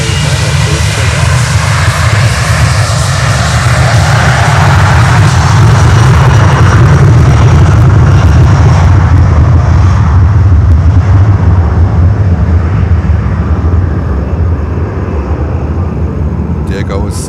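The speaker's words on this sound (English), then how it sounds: "There goes Estafeta 737 to Cancun in Mexico" A Boeing 737 freighter roars down the runway on takeoff at Miami airport, a loud, sustained engine rumble and whine that slowly fades as it climbs away, with a voice talking over it.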